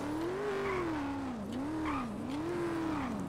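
A car with a 440 engine revs in a video game, its pitch rising and falling in repeated swells, loud and close, with faint tire noise and no talk.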